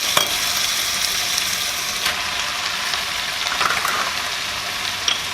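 Tuna joins potatoes in a hot pan, giving a loud, steady sizzle and fry with occasional stirring scrapes, close up and without talk.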